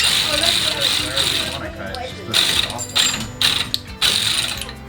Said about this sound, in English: This ratchet would be so great if I could fit it in between the places that I need it to go